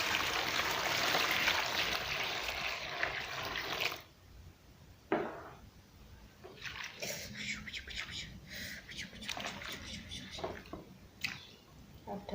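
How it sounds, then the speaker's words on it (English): Hot water mixed with a little shower gel pours into a basin for a home foot soak, a loud, rushing splash for about four seconds, then quieter sloshing and handling noises. "I'm going to be pouring hot water"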